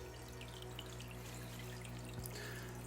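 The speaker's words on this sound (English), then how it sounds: "You hear it, it's just starting to pull water now." A freshly cleaned hang-on-back aquarium filter begins drawing water, giving a faint, steady trickle and pour with a low hum underneath.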